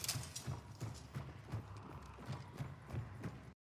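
Footsteps of a hunter in Hunt: Showdown, heard as a steady run of rhythmic thudding steps, about ten across a few seconds, with a clip-clop quality and no talking.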